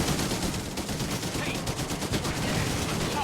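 Sustained machine gun fire in Blitzkrieg 3, a dense, steady rattle of rapid bursts under a noisy battlefield din, fairly faint overall with a voice speaking over it.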